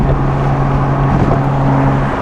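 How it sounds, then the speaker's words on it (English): A BMW F80 M3 with a titanium exhaust, downpipes and an M Performance rear section holds a steady, close, low droning exhaust tone at a constant pitch, with no revving. "it's titanium, the exhaust, so it's a different tone to it"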